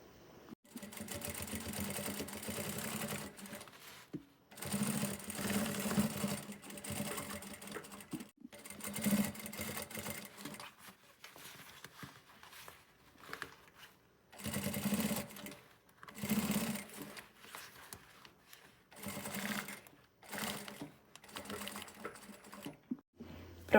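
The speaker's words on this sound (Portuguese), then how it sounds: "E fazer uma costurinha de pesponto aqui" A sewing machine topstitches through the outer fabric and lining of a cloth toiletry bag, running in several bursts of rapid, even whirring separated by short pauses, fairly close and with no talking.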